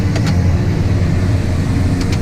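A John Deere 7930 tractor labours uphill pulling a Sunflower 6333 tillage implement, its engine a loud, steady low-pitched drone close by with faint mechanical clicks, no voices.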